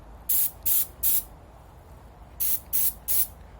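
An aerosol can sprays light coats of Durablue finish onto a Savage/Fox Model B shotgun in six short hissing bursts, grouped three and three with a quiet gap between, close and clear with no speech.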